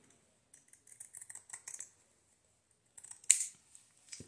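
Scissors snip through craft trim in a quick run of small crisp cuts, then a brief pause and a louder final cut, close and quiet with no talking.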